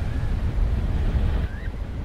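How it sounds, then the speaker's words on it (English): Ocean waves surging against a ship, a continuous heavy low wash of water with wind, loud and close throughout. "the waves will hit the ship"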